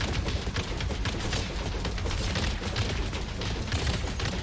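Continuous rapid gunfire in a video game forms a dense, unbroken clatter at steady volume with no pauses.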